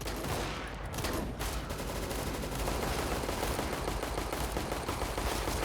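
Rapid bursts of automatic gunfire in the game CS:GO crackle continuously, dense repeated shots with a brief lull near the start, loud and busy throughout.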